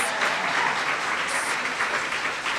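A packed audience at a Women's History Month celebration breaks into steady, dense applause that fills the room evenly from start to finish, with no voices standing out.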